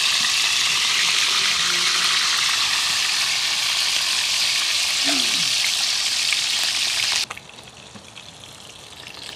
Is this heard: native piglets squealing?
no